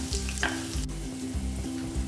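Ginger frying in oil for raw mango chutney, a close sizzle under regular utensil stirring strokes against the pan, steady and fairly loud, with no talking.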